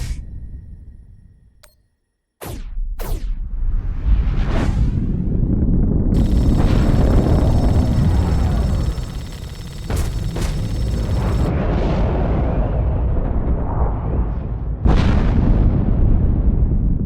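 Torpedoes launched and exploding in The Expanse space combat video game, a sequence of loud rumbling booms and sharp bursts with a sustained roar in between, no talking.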